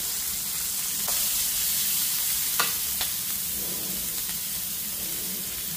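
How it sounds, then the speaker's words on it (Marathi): Cumin, chili, capsicum and onion sautéing in oil for appe, a steady close sizzle with a few sharp spoon taps and scrapes against the pan, no voices. "थोडेसे जिरे टाकायचे, मिरची, शिमला मिरची, कांदा ते परतून घेते।"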